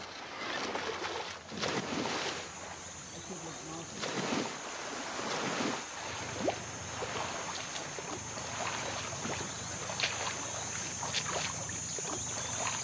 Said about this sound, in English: Sunga takes me on a wobbly ride up a mangrove creek.